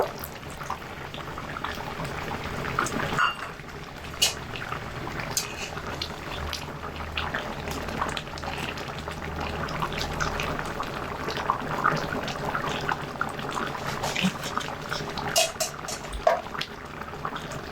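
Coconut milk, squeezed from freshly grated coconut, pours into a simmering eggplant malai curry in a pot, a steady liquid gurgle and bubbling running throughout at moderate level, with small clinks and splashes along the way.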